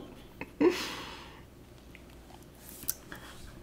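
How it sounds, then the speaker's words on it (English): Crunchy food chewed close to the microphone, a few soft crunching bites with a louder one near the start, then quieter chewing and faint breaths. "I just don't need you guys hearing me crunch on the microphone."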